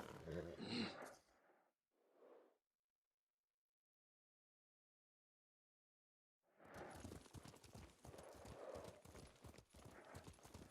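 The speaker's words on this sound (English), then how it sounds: "What a good horse." A horse's hooves clip-clop at a steady gallop in the Ghost of Tsushima video game, loud at first, then pausing into silence before the rhythmic hoofbeats return close by and keep going.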